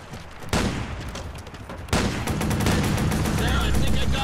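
Gunfire in the video game Watch Dogs: loud sudden shots at about half a second and near two seconds, followed by sustained rapid firing that carries on to the end, with background game noise.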